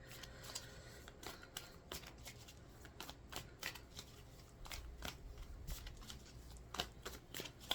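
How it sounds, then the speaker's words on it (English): A tarot card deck being shuffled up close, with repeated papery riffles and soft slaps coming in quick bursts throughout, moderately loud and with no talking. "I'm also going to pull in from this tarot deck."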